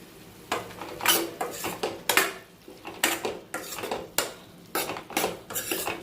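A spoon stirs ground spices into curry in a pan, giving about ten rhythmic metallic clinks and scrapes against the pan, close and fairly quiet, with no talking.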